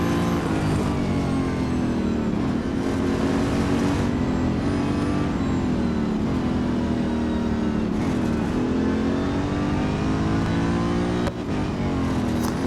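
A Chevrolet Corvette C6.R GT2 race car engine in the racing game Real Racing 2, a loud continuous howl rising and falling through gear changes and revving steadily throughout with no pauses.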